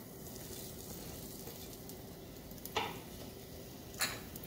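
Sliced onion frying in coconut oil in a pan for squid roast, a steady low sizzle throughout with two brief sharp clatters of a utensil toward the end.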